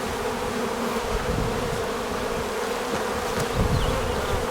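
Aggressive honeybees swarm around an opened hive during an inspection, a thick, continuous buzzing drone that stays loud and close throughout with no voices.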